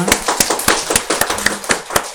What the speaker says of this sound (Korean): 우리 박수로 영광 돌립시다.